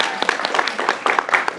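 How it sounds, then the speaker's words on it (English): A brief burst of applause from a small group at a meeting, scattered close claps with a faint murmur of voices underneath, lasting under two seconds. "This is my applause now"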